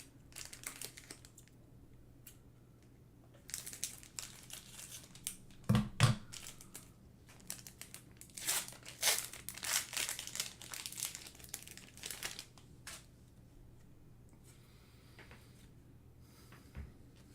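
A Magic: The Gathering booster pack wrapper is snipped with scissors and crinkled and torn open, a close run of plastic crackles and rustles that thickens in the middle, with a faint low hum underneath.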